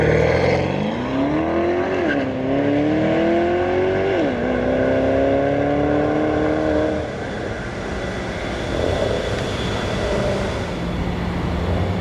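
A tuned Porsche Panamera GTS engine revs up with rising, stepped harmonic pitch, drops briefly, climbs again and holds a loud drone, then settles into a lower idle rumble for the remaining seconds.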